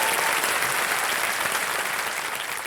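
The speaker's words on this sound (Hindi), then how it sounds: "तालियां बज जाएं इनके लिए।" A studio audience on the KBC quiz show set bursts into loud, dense, continuous applause, an even wall of clapping that holds steady and tapers slightly toward the end, with no voices over it.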